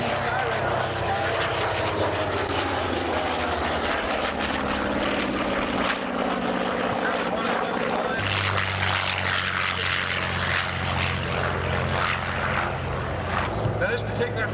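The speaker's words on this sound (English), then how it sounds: "As our AD Skyraider comes by" A Douglas AD Skyraider propeller plane passes at an air show, its steady engine drone shifting in pitch as it goes by, heard under a voice-over announcer talking throughout.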